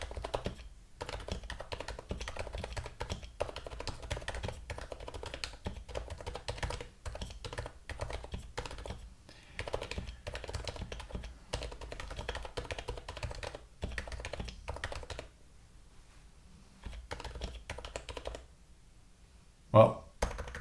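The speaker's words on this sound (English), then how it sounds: "This is this is a different keyboard now." Brisk, continuous typing on a new mechanical computer keyboard, close and crisp, with dense runs of keystrokes broken by brief pauses and a final louder clack near the end.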